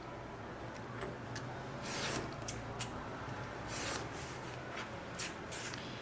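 A utility knife cuts a leather shopper bag pattern, making quiet, close scraping and slicing strokes in short irregular bursts over a faint steady background.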